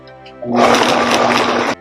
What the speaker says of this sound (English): You want to start off your blender on a very slow speed, let things blend for a second, and then gradually turn the speed up